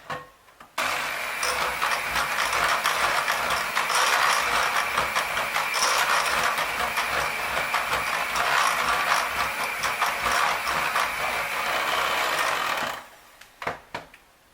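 Electric hand mixer beating orange cake batter on high speed, a loud, close, steady whirring drone that starts abruptly, runs without a break and then cuts off, with a few clatters at the end.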